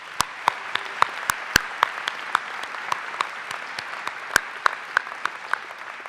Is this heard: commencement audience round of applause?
yes